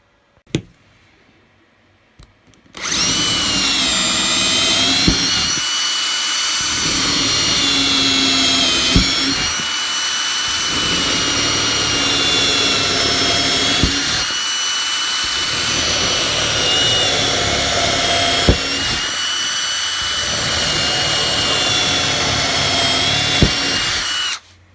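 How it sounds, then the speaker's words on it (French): A power drill boring 12 mm holes for LEDs in a large 16-point Christmas star, a loud steady whine that runs almost continuously after a quiet start, broken by short pauses and small knocks between holes. "les trous sont percés, 12 mm"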